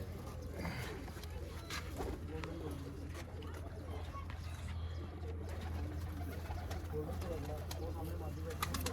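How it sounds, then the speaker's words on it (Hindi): Pigeons coo repeatedly in a pigeon-keeping setting, a steady low murmur of calls with occasional wing or foot sounds and voices in the background. "इस सीजन का एक कबूतर पड़ गया।"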